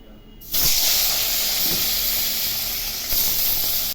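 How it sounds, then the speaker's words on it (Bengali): Eggplant pieces frying in hot oil, a loud steady hiss and sizzle that bursts in abruptly and then holds evenly throughout, with a slight swell near the end. "আগে বেগুনগুলো ভেজে নিচ্ছি।"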